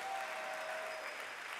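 A church congregation clapping during worship, a soft, fairly distant wash of hands that stays steady and even across the moment, with no speech over it.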